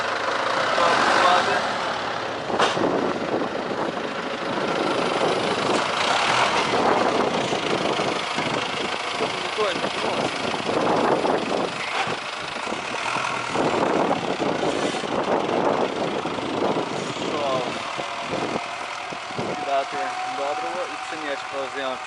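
Tractor engines run steadily at a farm field during sowing of winter wheat, an MTZ tractor and a Bednar seeder-compactor among them, a continuous mid-level mechanical drone with occasional clanks while people talk nearby.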